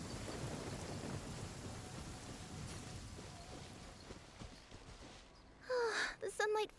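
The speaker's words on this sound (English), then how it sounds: "Trees are a bad thing in the thunderstorm." Steady rain hisses through a thunderstorm in Genshin Impact, with a faint rumble of thunder, and a loud, sharp crackle of nearby thunder near the end.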